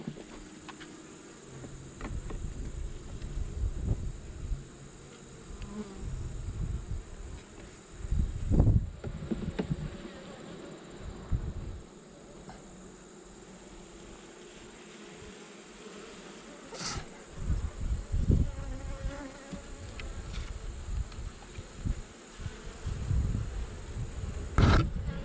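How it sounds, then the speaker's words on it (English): Honey bees swarm around an opened beehive with frames pulled for honey checking, a dense steady drone of buzzing wings close by, swelling with occasional bumps and knocks of handling. "These bees seemed a little grumpy when I first opened them up."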